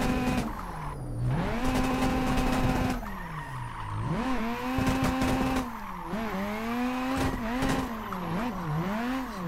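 Car drifting in the Assetto Corsa racing game, engine revs rising and falling in repeated sweeps with tire squeal and sharp backfire pops, loud and continuous throughout.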